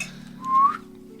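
A person gives a single short rising whistle, clear and close, lasting about a quarter second over a low background hum.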